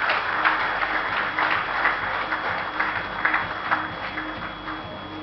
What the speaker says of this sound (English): And let's have a round of applause,